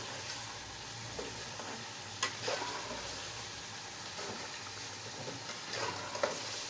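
Biryani ingredients frying and being stirred in a pot over a flame, a steady low sizzle with a few soft scraping knocks of the spoon, fairly quiet and close, with no voices.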